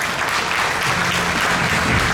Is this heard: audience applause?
yes